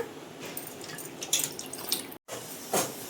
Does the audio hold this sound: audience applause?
no